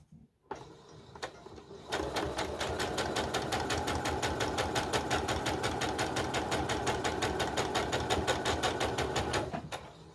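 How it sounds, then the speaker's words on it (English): A sewing machine stitches quilt fabric corner to corner for a bow tie quilt block, starting after a brief click and then running in a steady, rapid mechanical hum for about eight seconds. "You're just going to sew it from corner to corner."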